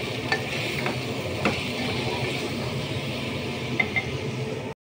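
A utensil stirs a shrimp dish in a frying pan, with soft scrapes and occasional metallic clinks over a moderate sizzle that cuts off briefly at the very end.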